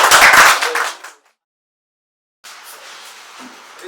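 Loud clapping from a meeting audience in Delhi, a dense burst of many hands that fades out after about a second, followed by silence and then faint room noise.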